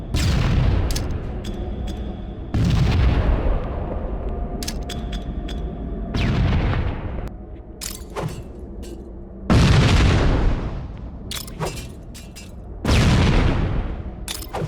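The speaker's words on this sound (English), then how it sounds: "There were also other special effects, such as explosions being muffled behind walls." Explosions in the game Halo: Combat Evolved Anniversary, a series of loud deep booms with rumbling tails, spaced a few seconds apart and heard alone without talk.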